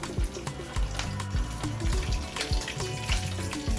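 Keto taco shells fry in a pan, a steady sizzle with repeated sharp pops and clatters of utensils roughly every half second, close and moderately loud.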